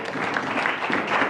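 Church congregation applauding in acclamation, a steady dense wash of clapping hands that holds at an even level for its whole short span with no voices on top.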